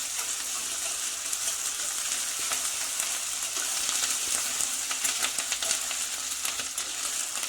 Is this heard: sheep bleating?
no